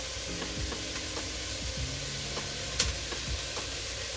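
Cinnamon being stirred into a soup pot of softened, translucent vegetables, a steady low sizzle under repeated scraping stir strokes and a few light knocks, nearby and without talk.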